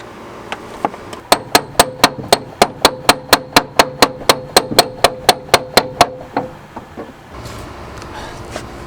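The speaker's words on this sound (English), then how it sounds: "Just hold the button for a second or two and it spot welds it on there" A stud welder spot-welds pins onto the body of a turbo Honda Del Sol, giving a loud, close train of about twenty evenly spaced sharp snapping pulses, followed by a few scattered clicks.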